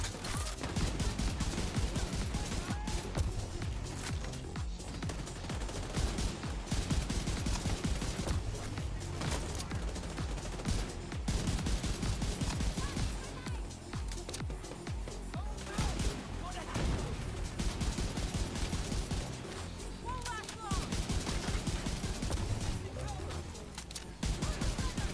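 Rifle fire from an M1A in The Division 2, sharp shots with other gunfire and explosions across a busy firefight, spoken commentary running over parts of it.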